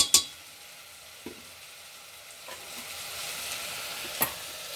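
Vegetable manchurian stirred in a pan, a soft continuous sizzle broken by a few sharp scrapes and knocks of a spoon against the pan, near and moderately quiet.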